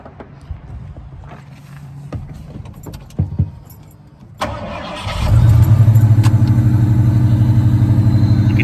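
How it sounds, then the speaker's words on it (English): A 1980 Ford F100 custom with a V8 and a MagnaFlow single 3-inch exhaust: keys jingle, then the starter cranks briefly and the engine catches and settles into a loud, steady, deep idle. "Let me just fire it up for you."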